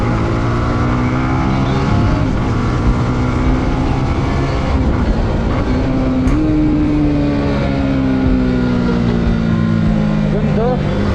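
A Honda Winner X underbone motorcycle is ridden hard around a racetrack, its engine whine climbing in pitch through several gear changes, loud and close throughout.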